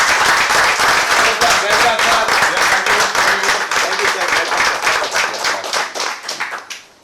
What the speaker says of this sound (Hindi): जोरदार तालियों के साथ हम यहाँ पर इनवाइट करेंगे आपके हमारे सबके चहेते आदरणीय डॉक्टर सागर जोशी सर